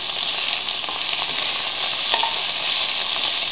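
Coarsely chopped onions and dark green hot peppers fry in olive oil, giving off a loud, steady, continuous sizzle with faint crackles throughout and no voices.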